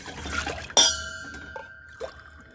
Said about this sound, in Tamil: 2 கிளாஸ் தண்ணி ஊற்றினா போதும்.